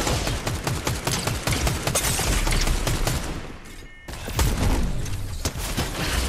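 Rapid bursts of gunfire in the video game Fortnite, dense overlapping shots and booms crackling almost nonstop, pausing briefly before another loud volley resumes.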